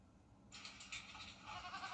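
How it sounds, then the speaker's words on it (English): Goats bleat in a steady run of overlapping calls that grows fuller and louder after the opening moment, alone with no talk. "What's with all the goats?"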